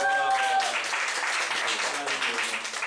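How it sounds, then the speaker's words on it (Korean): Applause from a church youth group audience, a steady wash of many hands clapping at moderate distance, overlapping with voices that continue talking through it. "와, 박수!"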